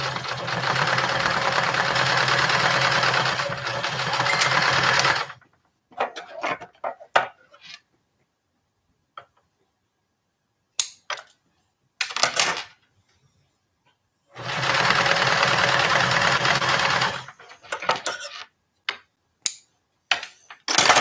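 A sewing machine stitches a seam on a small standing bag with painted fabric, running in two long steady bursts of several seconds each, separated by quieter stretches of clicks and handling noises.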